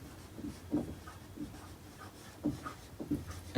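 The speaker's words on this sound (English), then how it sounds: "let me just write that down" Pen writing out notes on paper or a board, a quiet sequence of short scratchy strokes in an irregular rhythm, close and soft, with no talking.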